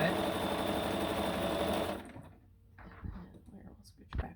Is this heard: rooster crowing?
no